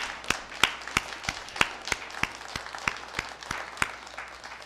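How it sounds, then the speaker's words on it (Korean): Church congregation clapping during a Sunday worship service, a steady round of applause with distinct sharp claps repeating through the clip, moderately loud and fairly close. "박수합시다."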